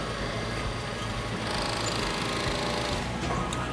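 An industrial mattress machine with a dual sensor stitches mattress corners and turns in a machinery showroom, giving a steady, dense mechanical whir that runs without a break.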